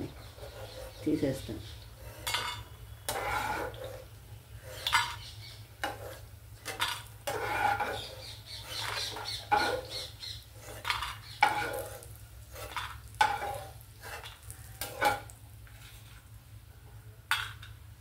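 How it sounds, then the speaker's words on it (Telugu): Vadiyalu, raw banana and potato frying in a pan, a low sizzle under repeated spatula scrapes and clinks against the metal, with occasional talking in between. "అన్నీ వేసుకుని ఇంకోసారి ఫ్రై చేసుకుందామండి."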